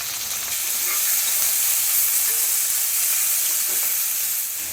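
Sliced onions sauté in a hot pan, giving a steady, loud, close sizzle with a bright hiss that holds evenly throughout, with no talking.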